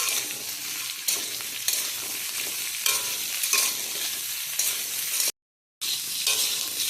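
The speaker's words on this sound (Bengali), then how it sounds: "এরপর দিয়ে দেওয়া হচ্ছে পটল। ভালোভাবে নেড়ে চেড়ে নেওয়া হচ্ছে।" Mixed vegetables with pointed gourd, pumpkin and potato are stirred in a frying pan for a Bengali mixed vegetable curry. A continuous sizzle runs under repeated scraping strokes, with a brief dropout near the end and no talking.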